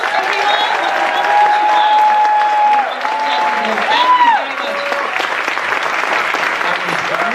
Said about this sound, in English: Let's give them another big round of applause, everyone.